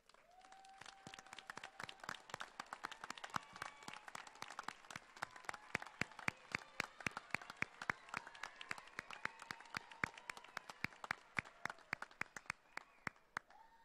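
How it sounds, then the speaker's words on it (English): Scattered audience applause at a college graduation ceremony honors the graduates' families. The claps are sharp and distinct, sounding at an uneven pace throughout, quiet overall with a faint tonal hum beneath. "let's give them a round of applause"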